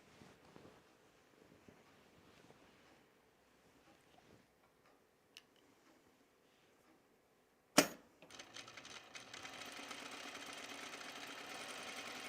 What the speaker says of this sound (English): So we're gonna stay stitch this neckline edge.